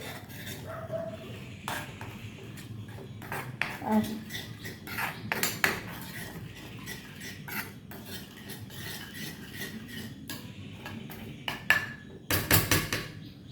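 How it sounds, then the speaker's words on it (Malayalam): Drumstick and fenugreek pickle ingredients are mixed in a pot, producing repeated close clinks and scrapes of a utensil against the vessel, with a dog barking faintly at times. "ഇത് നല്ലവണ്ണം പൊടിഞ്ഞിട്ടുണ്ട് എല്ലാം കൂടി ഒന്ന് മിക്സ് ചെയ്യുക"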